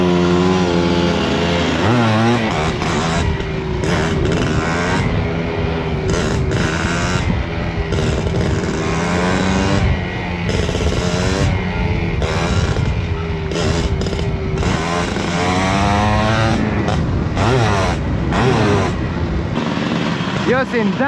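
A motorcycle revs hard while wheeling up to third gear on a dirt track, its engine rising and falling in loud, continuous pulls, with people talking over it throughout.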